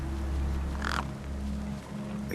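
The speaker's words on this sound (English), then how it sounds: "The gang birds were eyeing up the corpse hungrily." A single harsh caw from gang birds in the video game Beyond a Steel Sky, heard over a steady low drone and game ambience.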